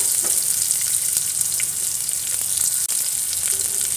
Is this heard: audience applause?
no